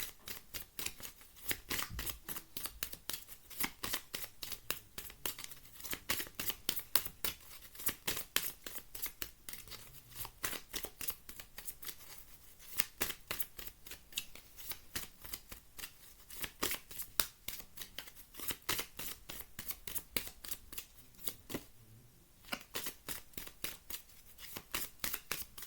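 Tarot cards are shuffled repeatedly up close, a steady run of quick, crisp riffling and flicking bursts with brief pauses, fairly soft and without voices.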